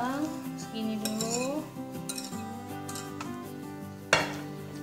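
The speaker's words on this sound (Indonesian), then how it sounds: "aduknya jangan begini-begini ya, pelan-pelan saja, asal rata aja." Banana muffin batter stirred in a bowl with a utensil, soft scraping and clinking against the bowl, close and fairly quiet, with a sharper clink near the end.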